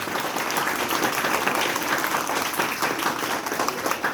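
A large group of children claps loudly and steadily at a school Republic Day celebration at Bal Utthan Vidya Mandir. The applause is dense and sustained throughout, with no pauses.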